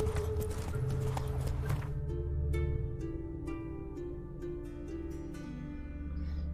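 Horse hooves clip-clopping along in The Witcher 3 video game, a steady trotting rhythm at moderate level over background music, with a brief whinny.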